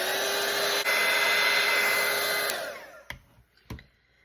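A hair dryer blows steadily and loudly over a watercolor painting for about two and a half seconds, then switches off and winds down, followed by a couple of faint clicks.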